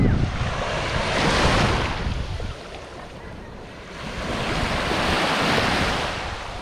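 Ocean surf at a beach on a clear day, two broad swells of breaking waves washing in loudly with wind buffeting the microphone between them.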